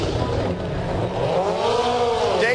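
Dave Mirra's damaged rally car reverses at an X Games rally race, its engine note rising and falling in pitch as it revs, loud and close over crowd and track noise.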